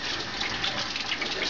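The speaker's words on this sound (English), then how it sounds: "Wash the egg off my hands." Tap water runs steadily into a sink as egg is washed off hands, a close, continuous broadband rush with no talking.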